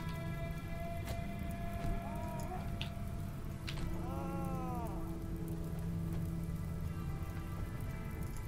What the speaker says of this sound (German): Es regnet, sehe ich gerade